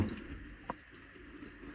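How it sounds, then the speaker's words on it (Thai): Water seeping and trickling from a crevice inside a damp cave, with one brief drip standing out over a faint, continuous wet background. "ที่มีน้ำไหลซอกออกมานะฮะ"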